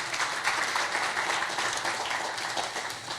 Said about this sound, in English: Give all of them a round of applause as well.